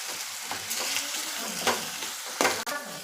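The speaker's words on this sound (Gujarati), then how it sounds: "તેલમાં સરસ બટેકું આપણું હળી જાહે।" Cubed potato sizzles steadily in hot oil over a full gas flame while sabudana khichdi is being made, with a few louder stirring scrapes cutting through the close, continuous frying hiss.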